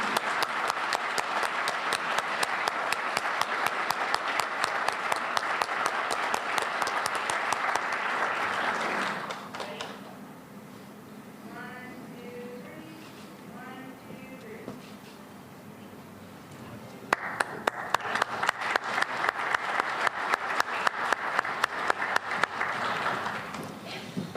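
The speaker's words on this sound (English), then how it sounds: "I'll give one more round of applause for today's promotee." Audience applause at a police department promotion ceremony, loud sustained clapping that drops away for several seconds of quieter room noise and faint talk, then swells back to full steady applause.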